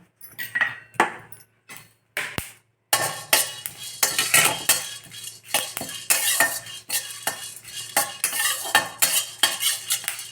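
Black pepper, cumin and curry leaves dry roasted in a pan for podi idli powder, with rapid metal spoon scrapes and clinks against the pan that come in busy bursts and short pauses, close and fairly loud.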